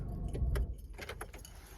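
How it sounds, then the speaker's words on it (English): A car is switched off, then a set of keys jangles close by in a quick burst of bright metallic clinks over a faint low engine hum. "Turn my car off."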